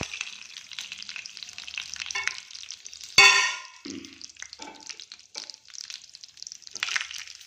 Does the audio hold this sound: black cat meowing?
no